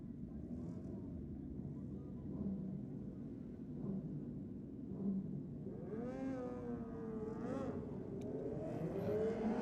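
Drag bikes launch hard down the strip at a Sydney Dragway bike night, a rising engine howl climbing in pitch with brief throttle feathering, over loud background rumble.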